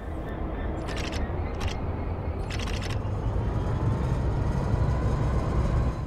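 A train in Train Sim World rolls in reverse with a steady low rumble, punctuated by a few brief metallic clicks.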